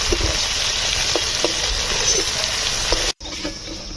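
Pond fish fry in hot oil, turning red and crisp, with a loud, steady crackling sizzle throughout and a brief drop-out near the end.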